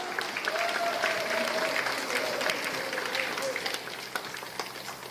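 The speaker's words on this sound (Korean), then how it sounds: "박수 부탁합니다." An audience applauds at a Korean lecture event, with dense, sustained clapping from a crowd that stays loud and steady, then eases slightly toward the end.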